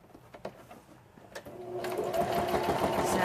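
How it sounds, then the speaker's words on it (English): A sewing machine running straight stitches over small glued fabric scraps, starting with a few faint clicks and then whirring steadily and louder, close by, with no talking over it. "I'm just doing straight stitches on these because I want it to be a different stitch"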